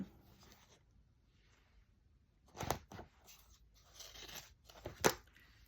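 Scissors cut out paper pieces for a collage, giving a few short crisp snips and paper crunches close by, with quiet pauses between them.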